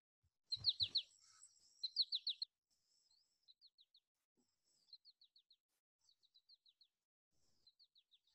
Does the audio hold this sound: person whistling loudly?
no